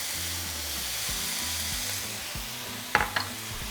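Seasoned carne asada meat frying in a pan, a steady hiss under a low humming drone, with two sharp scraping knocks near the end.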